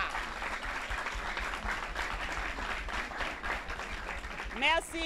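An audience at a public gathering applauds the results of a vocational training centre, with a dense, steady patter of clapping lasting several seconds, sustained and moderately loud, ending with a brief voice.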